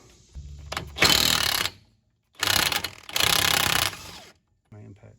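A DeWalt DCF899H impact wrench working a differential pinion nut on a GM 10-bolt rear axle of a 1979 Pontiac Trans Am: a short loud rattling burst, then a longer hammering burst with a brief break, close and alone.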